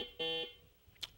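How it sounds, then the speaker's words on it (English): Quiz competition buzzer-like siren marking the end of the first half, a short, faint electronic tone lasting about a quarter second, followed by a brief chirp. "I believe that was the siren to end the first half here on categories"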